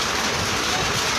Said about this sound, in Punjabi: ਕੋਈ ਪਰਵਾਹ ਨਹੀਂ ਕਰਨੀ ਮੀਂਹ ਦੀ।